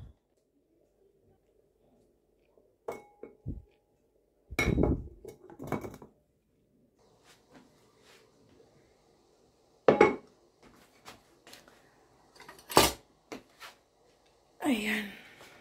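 A lid covers a cooking pot of boiling food in a kitchen, bringing a few scattered clanks and clinks of metal and utensils amid quiet, with talk between them.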